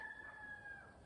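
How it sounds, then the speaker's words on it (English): A neighbour's rooster crows, a single drawn-out call heard at a distance, faint and steady against a quiet outdoor background with no talking. "That's a new neighbor this summer. It's a rooster, and I love him."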